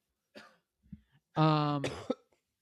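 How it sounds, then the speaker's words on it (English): A few short breathy bursts, then a loud, harsh cough followed by a second rasping cough, close up in a quiet room. "Cough break."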